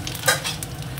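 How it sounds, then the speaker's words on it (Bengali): Dried red chillies and cumin seeds hit hot oil left from frying potatoes, giving a brief close burst of sizzling with a stirring scrape. "তেলের মধ্যে দিয়ে দেবো হচ্ছে 2টো শুকনো লঙ্কা, একটু জিরে"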